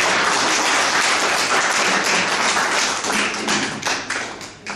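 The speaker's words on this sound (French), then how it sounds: "Je les applaudis" Applause at a children's municipal council swearing-in ceremony, a room full of people clapping loudly and steadily, the dense patter thinning slightly toward the end.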